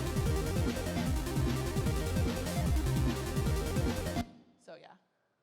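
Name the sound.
chiptune Famitracker bass with pulse width modulation and echo, full mix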